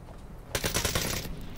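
Gunfire in the virtual-reality shooter Onward, a short burst of rapid automatic shots lasting under a second, moderately loud against a quiet background with no talking.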